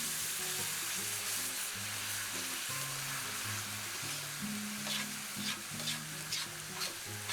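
Noodles stirred through sizzling teriyaki juice in a hot pan, a steady close crackle and hiss with scraping strokes running throughout, no talking.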